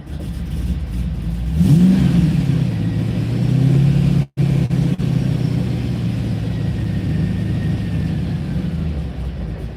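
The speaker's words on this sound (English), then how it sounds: "So I'm gonna rev it." A cold Corvette C5 V8 in neutral revs up in a loud, close surge, then settles into a steady rumbling idle with a brief dropout midway.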